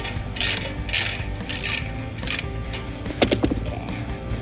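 A ratchet wrench clicks in repeated bursts while loosening a bolt on the exhaust tip of a V8 HEMI Dodge Charger, close up, followed by a few sharper metallic clinks.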